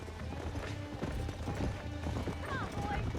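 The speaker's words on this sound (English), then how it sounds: "There's the horses!" Horses gallop in Red Dead Redemption, a steady drumming of hooves with a brief whinny near the end, mixed under in-game voices and talk throughout.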